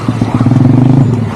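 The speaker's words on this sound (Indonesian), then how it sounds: "Tuh, di sana tuh naik motor trail." Trail motorcycles riding along a track behind a house, a loud close engine drone with a steady throbbing pulse and some clatter, holding through the whole short stretch.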